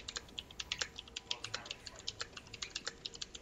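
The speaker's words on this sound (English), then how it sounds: "I decided to get the keyboard with the loudest switches" Rapid typing on a mechanical keyboard with loud switches, crisp clacky keystrokes in an irregular fast run, close and fairly quiet overall, with no talk.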